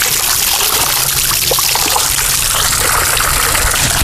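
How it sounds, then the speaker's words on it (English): Spring water spills from two rock columns into a water-filled rock bowl, giving a steady, close, loud splashing and trickling wash that runs unbroken throughout with no talk. "And then we have water falling from these two columns and falls down into that bowl, which creates a lot of sound."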